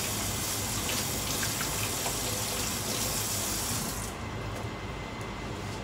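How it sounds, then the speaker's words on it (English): Tap water runs steadily into a sink for hand washing, a continuous close splashing rush that drops off slightly near the end. "Let me wash my hands again."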